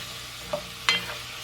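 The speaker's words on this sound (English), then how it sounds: "we're going to go ahead and let that saute for like another minute" Onions and peppers sautéing in a pot, a soft continuous sizzle with two brief scraping taps of a utensil stirring, close and fairly quiet.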